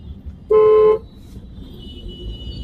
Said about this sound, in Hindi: और यही यूजुअली जो ट्रैफिक होता है जो हमेशा रूटीन का, वही हर जगह दिखता है।